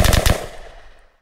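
Rapid video game gunfire from a custom gun framework: a quick burst of four loud, close shots, then a ringing tail that fades over about a second.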